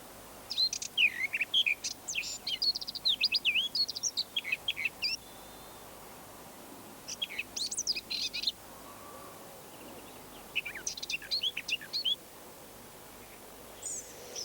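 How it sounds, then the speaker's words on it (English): A British garden bird with a nut-brown cap sings in three short, melodious bursts of high chirping notes separated by quiet pauses, fairly faint against a soft outdoor background. "You may hear a scolding call and a song which usually comes in short bursts and is particularly melodious."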